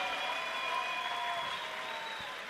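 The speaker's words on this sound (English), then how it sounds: "How about one more round of applause for her for coming down from Spokane to entertain us here tonight." Crowd at a local fight night applauding the fighter Sarah, a faint, distant, steady wash of clapping with no clear voices.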